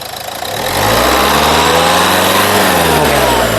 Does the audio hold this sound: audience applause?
no